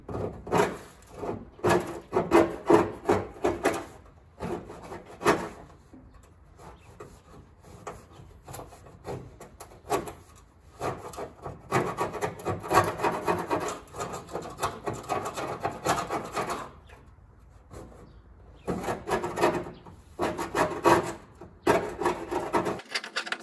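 Seam sealer being cut and scraped off the trunk of a Nissan Skyline R32 GT-R, a rapid series of close, scratchy rasping strokes in uneven bursts with short pauses, and no talking.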